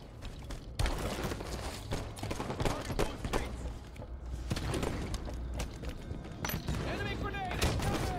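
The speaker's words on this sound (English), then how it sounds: "Sniper rifle's ready." Sniper rifle fire in Halo 5: Guardians ranked Slayer, with several sharp, loud shots spaced apart amid clattering mechanical reload sounds and constant game noise, and a voice speaking briefly.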